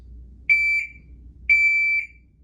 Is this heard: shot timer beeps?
yes